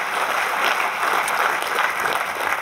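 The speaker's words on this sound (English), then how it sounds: "give a round of applause for all the speakers." A round of applause from a research talk audience for the day's speakers, a loud, dense and continuous clatter of many hands from start to finish.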